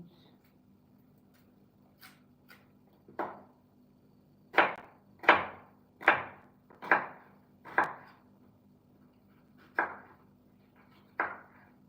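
Onions chopped with a knife on a cutting board during home dinner preparation of a salad, a series of sharp, fairly close knocks, sparse at first and then quicker, with steady low room hum beneath.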